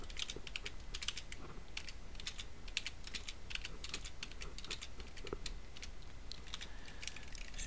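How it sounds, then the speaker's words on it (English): Rapid, steady keystrokes on a computer keyboard as numbers are entered, a continuous stream of light clicks close by with no talking. "so I'm going to type in those numbers"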